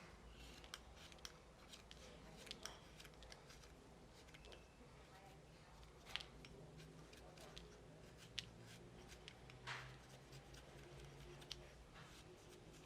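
A craft knife blade held flat scrapes paint from a graded pencil, giving quiet, close, irregular little scratchy ticks and clicks repeated steadily.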